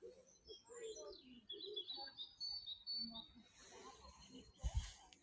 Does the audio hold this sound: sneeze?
no